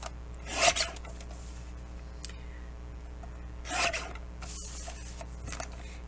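Paper being cut down to 2 3/4 by 4 inches for a six-pocket mini flip folio, heard as two short rasping strokes of the blade against a steady low background hum.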